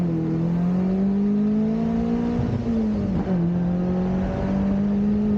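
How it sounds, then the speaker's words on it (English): Caterham sports car engine revving hard through its side exhaust, a loud, close, sustained drone with pitch rising and dipping as the throttle is worked, heard alone. "the sound coming from the side exhaust is just lovely"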